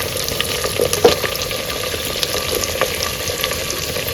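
Chopped onions, green chillies, carrot, ivy gourd, cucumber and drumsticks frying in hot oil tempering for Andhra-style sambar, a close steady sizzle with occasional louder crackles and stirring scrapes.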